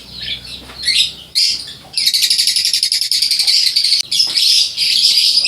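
Lovebirds in a breeder's aviary chirp in a dense, continuous high-pitched chatter, with rapid trilling bursts and short pauses, close and fairly loud with no talking.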